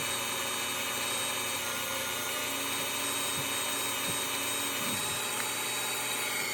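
Stainless steel pen part being polished with 2000 grit abrasive, likely on a lathe for a hybrid rattlesnake pen, giving a steady high whirring hiss with faint scraping, continuous and close, with no talk.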